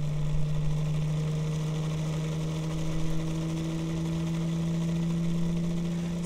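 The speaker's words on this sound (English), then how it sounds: "So you want to just keep going real slow until the motor gets really quieted down" A Bedini motor kit with ferrite magnets runs with a steady, droning electric hum and faint buzzing overtones, even and continuous throughout with no talking.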